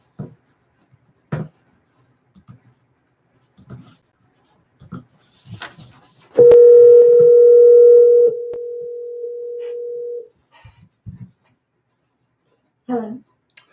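A steady telephone tone sounds loud and clear for about four seconds while a cell phone number is dialed on a cold call, a short beep-like burst first, with sparse clicks and brief speech around it.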